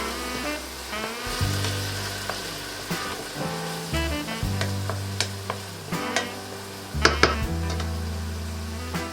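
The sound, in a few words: vodka sizzling in the pan for pasta alla vodka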